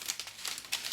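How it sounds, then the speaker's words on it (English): Parchment paper is folded by hand while dehydrated jalapeños are packed into a jar, giving close, crisp crinkling in several quick bursts over about a second, with no voices. "So I just take the ends of the parchment paper,"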